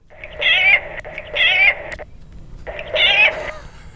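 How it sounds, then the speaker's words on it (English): Domestic cat meowing loudly three times in drawn-out, wailing cries, each lasting about half a second with short pauses between, close and clear over faint background hiss. "my cat was screaming at me"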